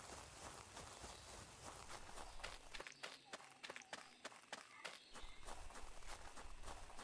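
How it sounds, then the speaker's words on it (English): Player-character footsteps in the hunting video game Prehistoric Hunt, a quiet run of evenly spaced steps that grow distinct in the middle over low ambient background. "Okay, no, those are my footsteps."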